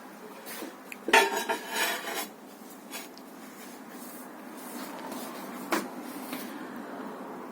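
Bisque-fired ceramic plates clatter and clink as they are lifted out of a pottery kiln, a few sharp knocks and ceramic scrapes standing out near the start and again later over a quiet room background.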